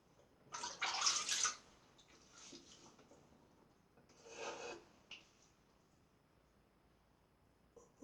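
Second pass with a Supply Co. SE safety razor, a few short close scratchy strokes across stubble, the loudest early and another a few seconds later, separated by quiet pauses.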